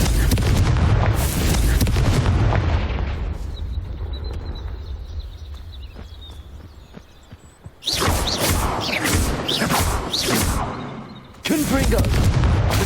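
Confringo fire spell blasts in Hogwarts Legacy, with heavy booming explosions and crackling bursts in rapid sequence, a quieter stretch with distant rumble, then more loud blasts, while a voice calls out spells.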